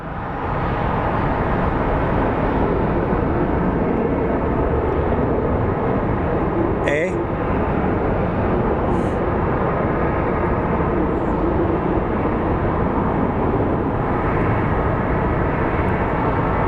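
An Airbus airliner arriving from Flagstaff, Arizona at Phoenix Sky Harbor International Airport gives off a steady broad jet roar that holds loud for the whole stretch, with a brief sharp click partway through.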